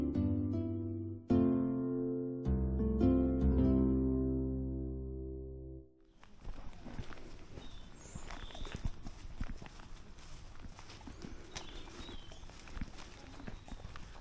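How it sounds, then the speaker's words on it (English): Horses ridden on a quiet Sunday morning, hooves clip-clopping in a steady walking rhythm, fairly near at first and then fading into faint outdoor ambience. "People are out horse riding"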